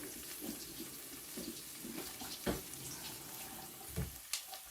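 Water runs from a tap into a kitchen sink while something is rinsed, a faint continuous splash with a few louder knocks and gurgles.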